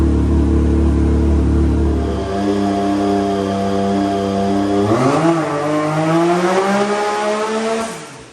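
A big-turbo Can-Am X3 with 32 psi of boost runs on a dyno. Its engine note drops, then sweeps steadily upward in a loud, sustained rev before cutting off abruptly.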